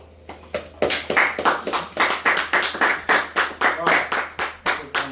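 A church congregation applauding after a French-language sermon reading, a crowd of hands clapping in a steady, fairly even rhythm of sharp claps that build and hold for several seconds in a resonant room.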